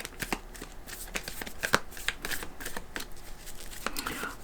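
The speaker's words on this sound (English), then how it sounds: "I'm going to pull cards for you." Tarot cards shuffled close by in a steady run of crisp riffling clicks and soft flutters lasting several seconds, with no talking.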